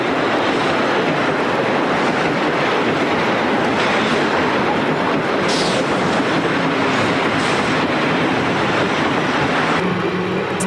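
Erie Lackawanna train passing close by at a station, a steady, loud, continuous rumble and rush that fills the whole stretch with no talking.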